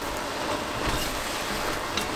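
A flour roux fries in a pan, giving a steady, soft, continuous sizzle at low level with no break and no voices.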